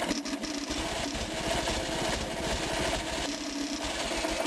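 A small Onan engine runs with a rapid, even chugging pulse after its carburetor idle valve is adjusted, loud and close with a rattling mechanical texture and no talking.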